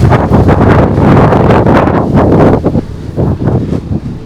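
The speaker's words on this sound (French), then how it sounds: "Ah, il y a un vent glacial, je ne dis pas." Loud gusts of icy wind in the Pyrenees roar and buffet the microphone, rumbling continuously before easing into choppier, fluttering bursts.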